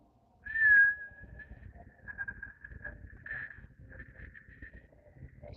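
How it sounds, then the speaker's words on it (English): Steady, soft whistle produced by exhaling through pursed lips during a yin yoga breathing exercise, one long breathy tone holding nearly level for several seconds with a slight wobble, heard alone in a quiet room. "we're going to try to whistle as we exhale through those pursed lips"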